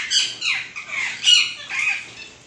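Parrots and pigeons at a bird feeder squawk and chirp close by in a quick series of harsh, overlapping calls, with a soft flutter of wings between them.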